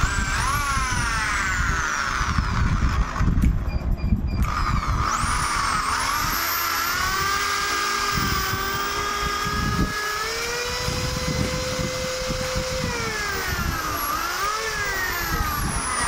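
A Bosch electric drill spins in reverse, its motor whining steadily while the pitch glides up and down as the trigger is eased and pressed, over a continuous background hum.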